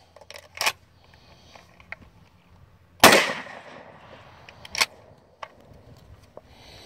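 One sharp, loud blast from a Mossberg 500 shotgun loaded with buckshot fires at a scoring target outdoors, with a few light clicks and clanks before and after it.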